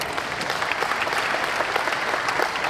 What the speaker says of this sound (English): A huge round of applause for all our finalists.